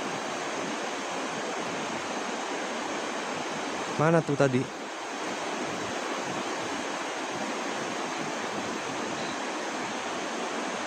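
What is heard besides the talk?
flowing water of the Cisadane river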